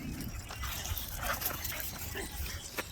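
A dog whimpers and yips in short bursts indoors, close by, while people talk over it.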